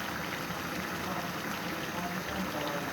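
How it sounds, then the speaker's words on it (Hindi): Oil goes into a pot of gobi gosht, a cauliflower and meat curry, producing a continuous dense bubbling sizzle that stays loud and even throughout, with no clear voices. "अब ऑयल जो है मैं इस स्टेज पे डालूँगी इसमें।"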